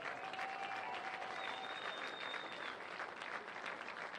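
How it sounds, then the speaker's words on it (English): Applause from a crowd at a high school eight-man football all-star game awards ceremony, steady and fairly distant, holding at an even level throughout with a faint tonal whine above it. "Let's give all one more big round of applause."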